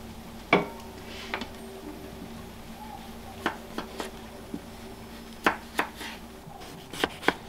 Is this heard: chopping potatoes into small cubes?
yes